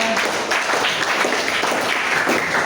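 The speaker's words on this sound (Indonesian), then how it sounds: "tepuk tangan untuk mereka" A classroom audience claps continuously, a dense, steady patter of many hands at moderate loudness without pause.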